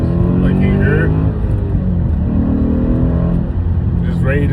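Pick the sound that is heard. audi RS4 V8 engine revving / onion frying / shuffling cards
audi RS4 V8 engine revving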